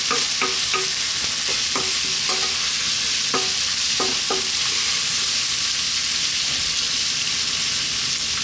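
Fried tofu stir-frying in a pan for a tofu and bean sprout stir fry, giving a steady loud sizzle with scattered scrapes and knocks of a spatula, close up and without speech.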